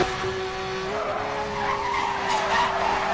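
Tires skid and squeal through a handbrake turn in the Hot Pursuit racing video game, a sustained high tonal screech over engine roar lasting the whole moment, loud and close with no talk.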